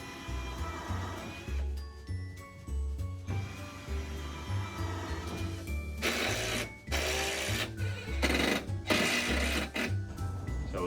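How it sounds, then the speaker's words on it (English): A power drill pre-drills holes in a wooden sauna bench on a mobile trailer sauna, whirring in repeated short bursts with louder, harsher stretches toward the end, close by and without speech. "we will need to pre-drill ideally 2 holes and then secure it to the bench"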